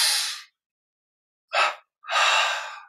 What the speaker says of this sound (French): Double inspire.